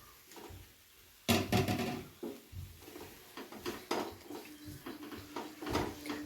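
Fried potatoes are tipped into a pan of spiced masala for a vegetarian eggplant dish, with a sudden clatter, then repeated scrapes and knocks of a spoon against the metal pan.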